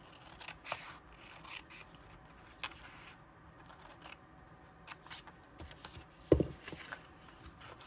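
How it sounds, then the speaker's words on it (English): Scissors cutting the corners from a sheet of designer series paper for a paper bag craft, quiet scattered snips and paper rustle close by, with one sharper louder cut near the end, no talking. "on one of the sheets of DSP, I'm going to cut out the 2 bottom corners"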